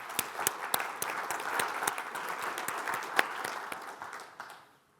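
Audience applause at a fintech conference in London, brisk crisp clapping from a crowd that holds steady, then thins and fades out over the final second.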